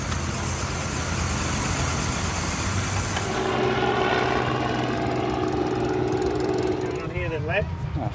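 A vintage engine runs steadily at an outdoor field day in Western Australia, a continuous mechanical drone with a chugging undertone beneath crowd noise and nearby voices.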